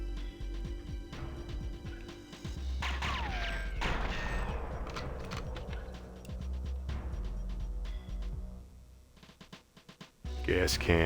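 Gunfire in the video game GoldenEye 007 on Xbox Series X, bursts of shots with wooden boxes and gas cans exploding, loud and busy with game effects layered over each other.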